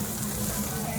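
Meat sizzling and frying on a Korean BBQ grill at a Toronto restaurant, a steady close crackling hiss with no talking.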